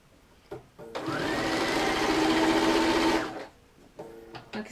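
A sewing machine stitches a purse zipper in a steady run of about two and a half seconds, close and clear, with quiet handling noises before and after.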